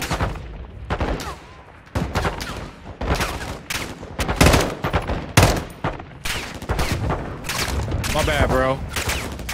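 Gunfire in the video game Call of Duty: Modern Warfare II comes as loud, rapid bursts of shots, spaced through the clip, while a player talks over the action.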